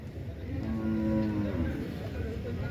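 A water buffalo gives one long, low moo nearby at the Mansa livestock market in Punjab, drawn out over a steady outdoor background hum.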